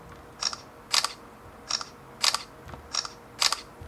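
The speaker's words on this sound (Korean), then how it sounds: "폴드2와 폴드3 동시에 한번 찍어 볼게요" Front camera shutter clicks from Galaxy Z Fold2 and Fold3 phones fired side by side: six crisp, close clicks arriving in pairs, one shortly after the other, over a faint background hum.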